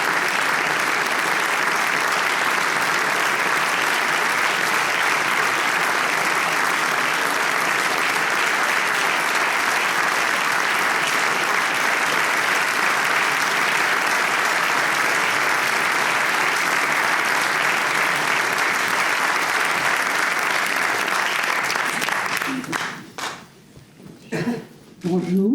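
Sustained applause from an award-ceremony audience for Pascal Claude at the Prix du Brigadier 2024, a loud, even wash of many hands clapping that holds for over twenty seconds, then thins out and stops near the end.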